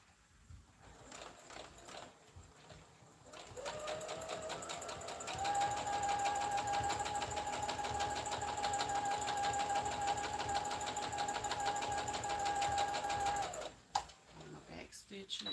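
A sewing machine stitches a toddler bonnet in a steady, fast run for about ten seconds, with a high whine over its rapid mechanical clatter. Quieter handling noises come before and after the run.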